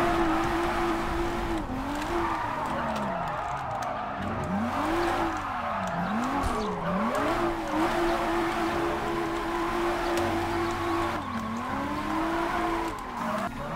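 Car race in the JDM: Rise of the Scorpions video game, a loud, steady engine drone with pitch sweeping up and down through gear changes, plus tire noise, continuous throughout.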